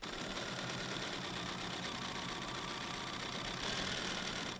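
A sewing machine stitches a quarter-inch seam around a quilted book cover, running as a steady, close whirring drone with no pauses and no talk.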